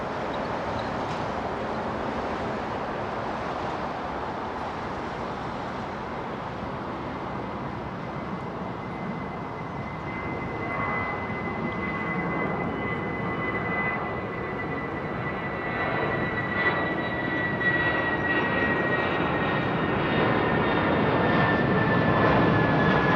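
An MD-11 jet airliner at London Heathrow Airport roars loudly with a broad, steady engine rumble and a thin whine on top, growing slightly louder toward the end, with no voices.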